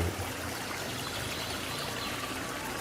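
Water rushes steadily over rocks in a river pool, a continuous close hiss and gurgle with no voices.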